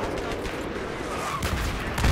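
Gunfire crackles through the Battlefield 3 Caspian Border conquest battle with tanks around, a steady dense wash of distant shots and explosions that thumps louder near the end.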